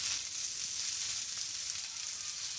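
Steady, close sizzle of oil frying in a village kitchen pan after salt and turmeric go in, a continuous bright hiss with no pauses.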